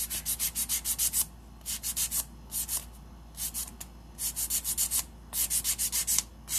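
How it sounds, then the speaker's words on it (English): A nail file rasps over the top of short almond acrylic nails in quick bursts of back-and-forth strokes, close and steady, with brief pauses between sets. "now I'm just filing over the top, making sure everything is blended in together."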